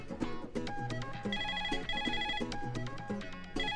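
A telephone rings with a bright, repeating electronic melodic tone, loud and steady throughout with no talk.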